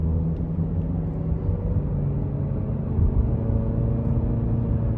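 A 2024 Honda Accord EX with the 1.5-litre turbo engine is heard from inside the cabin, its steady low engine and road rumble rising slightly as it gains speed under gentle throttle.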